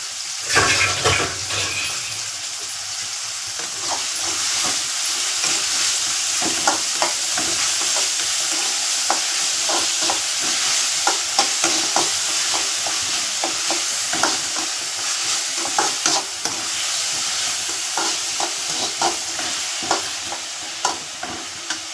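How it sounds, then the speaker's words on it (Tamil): Onions sauté in a pan for chicken gravy with a steady, close sizzle, while a utensil stirs them in frequent scraping taps across the whole stretch. "வெங்காயம் வதங்கும் தேவையான உப்பு போட்டுருங்க ஏன்னா சீக்கிரமாக வெங்காயம் வதங்கும்"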